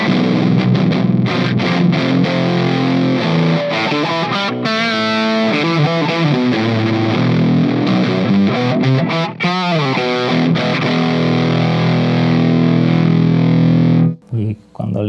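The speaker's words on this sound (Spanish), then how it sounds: "Eso es el típico sonido del Rat" Guitar played through a Rat distortion pedal with the blend set fully to distortion and no clean signal, loud gritty sustained chords and note runs ringing continuously before cutting off near the end.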